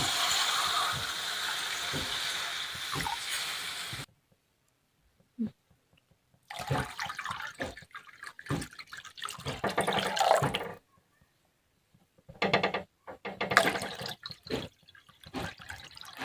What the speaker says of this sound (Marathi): आता आपण आपल्याला जेवढी भाजी पाहिजे तेवढं पाणी टाकायचं